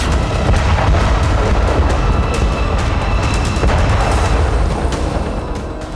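Heavy artillery fire and explosions from the Russia-Ukraine war near Zaporizhzhia, a dense, continuous barrage of booms and sharp blasts, loud and close, fading slightly toward the end.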